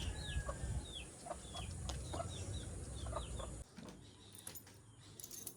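Chickens cluck and chirp in short repeated calls over a low, steady background rumble, moderately close, with no talking.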